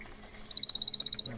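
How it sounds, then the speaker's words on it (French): A Bonelli's warbler, a tiny bird in a nature reserve in the Tarn, sings a single rapid dry trill of about fifteen even, high-pitched notes, close and clear over quiet background. "Un petit pouillot de Bonelli, c'est un tout petit oiseau. Il nous chantait là"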